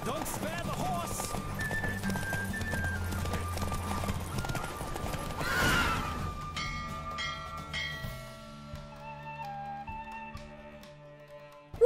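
Horse hooves gallop rhythmically in The Witcher 3 video game for most of the stretch under music and voices, then fade as bell-like tones and music take over near the end.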